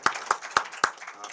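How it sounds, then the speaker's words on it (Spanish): A few slow, separate handclaps, about four evenly spaced strikes, fairly faint in a quiet hall as an audience at a legal lecture begins to applaud a speaker. "le vamos a tributar un aplauso a Carlos."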